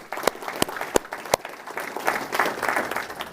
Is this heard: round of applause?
yes